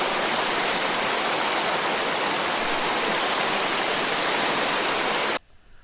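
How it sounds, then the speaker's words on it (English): A steady rain sample used as sound-design source material, a dense, even hiss that runs loud and unbroken for several seconds before cutting off abruptly near the end. "I have taken a rainy sound sample."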